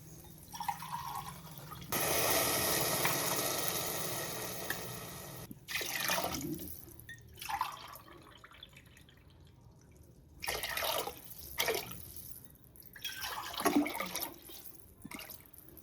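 Water poured from a tumbler into a pan of ghee on a stove while making ven pongal, heard as a few separate splashing, trickling pours with short gaps between them, fairly close and moderately loud.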